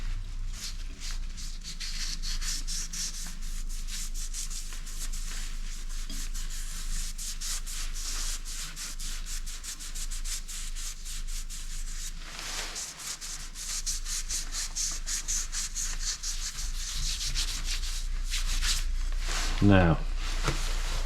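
Abrasive paper rubs continuously against a yew wood vase turning on a lathe, making a steady, close scratchy hiss with a louder pass near the end.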